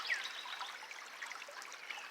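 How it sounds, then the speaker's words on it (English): Water trickles steadily down a small garden channel into a pool, a soft continuous close-up burble with no voices. "Water flows down the channel"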